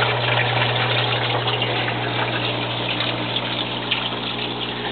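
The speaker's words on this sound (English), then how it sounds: "I'm using a 1000 GPH pump, and the vertical garden has very little effect on the flood and ebb system" A 1000 GPH water pump running in a flood and ebb tank gives a steady, close hum with a constant low tone under continuous gushing water, unchanging throughout.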